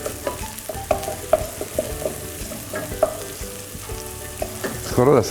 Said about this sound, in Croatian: malo kapule, peršina i luka. Pustit ćemo da dobro uvati.